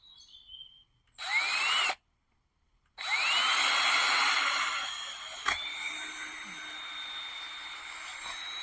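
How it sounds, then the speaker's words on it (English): A power drill bores a hole through a bamboo post for a garden trellis: two loud sustained whining bursts, the first brief and the second longer and settling into a steady run, close to the microphone. "So I'm going to just drill this hole here"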